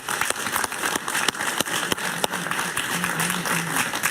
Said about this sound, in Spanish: Un aplauso Jaime. para Pablo Medina.